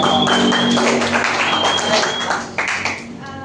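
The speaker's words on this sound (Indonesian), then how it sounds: "beri aplaus" An audience at a teachers' workshop session breaks into close, dense applause, a busy patter of many hands that thins out toward the end with a few scattered claps.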